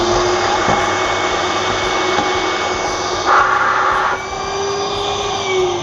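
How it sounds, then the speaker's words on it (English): An electric motor on a balloon gift machine, run by foot pedal, draws air with a steady whirring hiss and a faint high whine, continuous and fairly close. "which is your motor. I've got a foot pedal and it sucks the air through"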